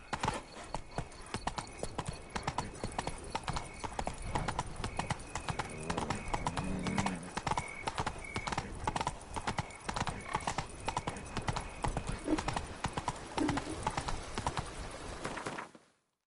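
Roach the horse gallops in The Witcher 3, a rapid, even clip-clop of hooves running close and steady for about fifteen seconds, with faint riding noises beneath, then stopping.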